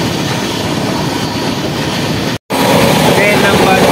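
The Jammu Tawi–Sealdah Humsafar Express runs on its rails with a loud, steady roar of wheels and rushing noise, broken by one brief dropout before the rumble resumes just as strongly.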